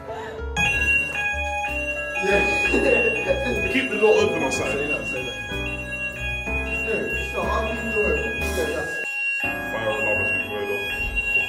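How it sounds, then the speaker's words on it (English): A building fire alarm rings on and on at a university residence, a loud continuous electronic bell tone with steady harmonics, while people talk over it close by. "The fire alarm has been going off."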